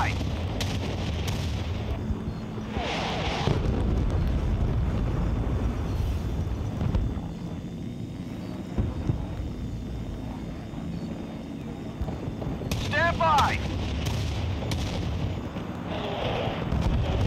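Heavy artillery shells slam down in the Battlefield: Bad Company war game, loud rumbling booms rolling across a battlefield with bursts of impact and debris, under background game noise.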